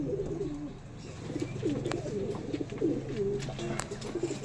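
Andhra and Tippler pigeons coo repeatedly at close range, rolling throaty calls overlapping one another above a steady low background hum.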